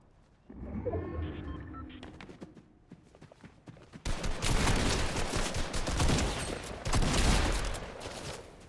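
Pistol gunshots crack in a video game, first sparse single shots, then a dense stretch of rapid firing and clatter.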